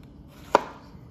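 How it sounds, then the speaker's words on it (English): A single sharp knife chop through zucchini on a cutting board, one crisp close thud in an otherwise quiet moment. "We're just gonna cut these in decent little zucchini."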